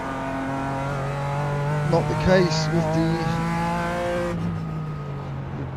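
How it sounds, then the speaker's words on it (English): A GT4 race car at the Nürburgring runs with a loud engine that revs and shifts up through the gears, with a brief screech midway. Someone talks over it, then the engine drops to a lower drone. "the ridiculous engine noise"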